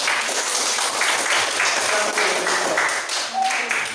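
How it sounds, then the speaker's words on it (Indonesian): A classroom of students applauding their classmate Joshua, steady rhythmic group clapping at moderate loudness lasting about four seconds. "mari kita berikan tepuk tangan kepada teman Joshua"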